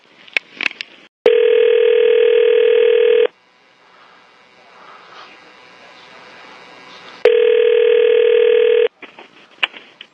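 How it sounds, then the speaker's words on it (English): Telephone line tones on a recorded call: two long, loud, steady ringback tones separated by a quieter stretch of line hiss, with brief clicks and faint tone blips at the start and end, no talking. "the reason I'm calling is we're doing some follow-up on the Watts case"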